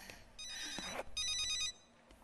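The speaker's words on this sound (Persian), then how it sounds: "صدای تلفن است." A telephone rings in two electronic bursts with a short gap between, fairly clear and close in an otherwise quiet room, then fades out.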